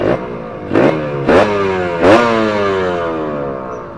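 A motorcycle running racing two-stroke oil revs hard several times in quick bursts, each blip rising then falling back to a rough, loud idle, close by and with no talking.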